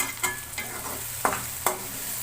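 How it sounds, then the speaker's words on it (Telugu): Onions frying in a pan for a cashew chicken curry, with a soft continuous sizzle broken by a few sharp spatula scrapes and knocks as they are stirred, close and without talk. "ఇలా మనకి ఆనియన్ పచ్చి వాసన పోయేంత వరకు వేయించుకుంటే సరిపోతుంది"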